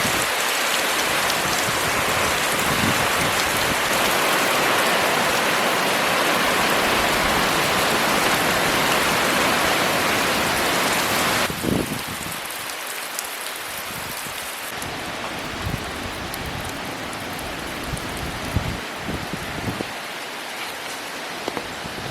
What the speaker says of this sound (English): we are getting some pretty good wind gusts